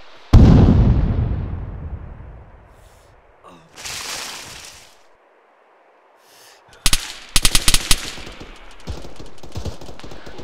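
Gunfire in the military video game Shack Tactical: a heavy opening blast that rolls away, a second distant boom, a short quiet, then a rapid burst of sharp shots with echoing tails.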